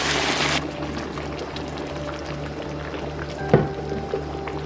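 Blended red chile and tomato sauce pours onto pork ribs, starting as a brief, loud rushing splash and then settling into soft wet sizzling and bubbling with an occasional clink.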